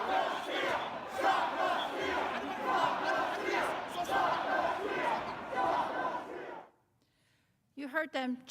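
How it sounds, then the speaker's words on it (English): A large political rally crowd chants "Stop the steal" in loud, dense, rhythmic unison for several seconds. The chant cuts off into near silence, and a brief voice follows at the end. "You heard them chanting, "Stop the steal.""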